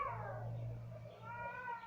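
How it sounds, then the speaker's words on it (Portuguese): A female cat in heat gives drawn-out, wavering meows and caterwauls that run continuously at moderate loudness, with a steady low hum underneath and no talking. "É a minha gata, ela tá no cio."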